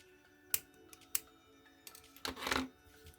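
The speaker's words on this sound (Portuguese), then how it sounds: "Cortei o meu fio" Scissors cut through crochet yarn with a couple of crisp clicks before a brief, louder rasping snip, all close and quiet.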